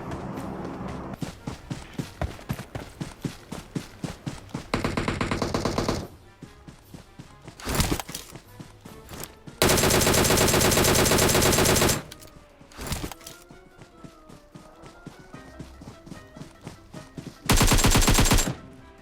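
Gunfire in the video game PUBG Mobile: runs of sharp, evenly spaced single shots, then several dense, loud sustained bursts of automatic fire, separated by quieter stretches of game sound.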